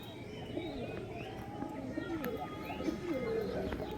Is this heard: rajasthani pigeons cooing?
yes